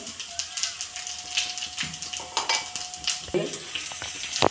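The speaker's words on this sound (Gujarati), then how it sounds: "થોડું જીરું પણ શેકી લેવાનું છે" Cumin seeds roast in a pan over low gas while making colourful dhokla, giving a crackling sizzle with repeated stirring scrapes and clinks, plus a thin whistling tone through the middle.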